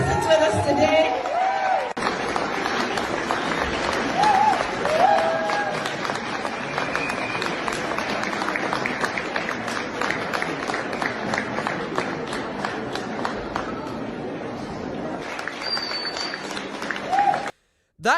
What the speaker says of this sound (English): give a very big round of applause to Aaron's father, who is also present with us today